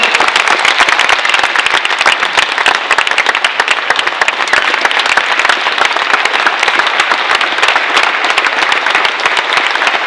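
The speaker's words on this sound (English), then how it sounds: "Guys, another round of applause for Sean Whalen." A crowd gives sustained applause for Sean Whalen after an onstage talk, a loud, dense, even burst of clapping with no talk over it from start to finish.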